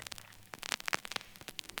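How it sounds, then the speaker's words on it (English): Vinyl crackle from a vinyl drum sample pack, a steady bed of pops and clicks with occasional louder snaps, faint and alone with no other instruments. "some vinyl crackle"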